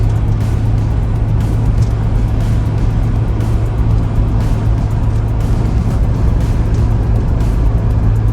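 A Suzuki Jimny fitted with Tough Dog 80mm lift coils cruising at about 100 km/h, a loud steady engine drone with constant road and wind noise from inside the cabin, with no clear gear change.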